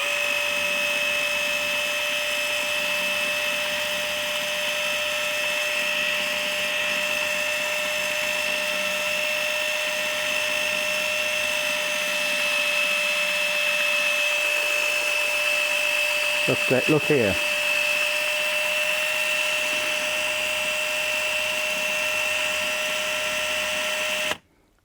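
A Ryobi R18PF battery file sander runs close by on its slow speed setting, giving a steady, sustained whine with a constant pitch for about 24 seconds. A person says a few words partway through, and a brief clatter is heard near the end.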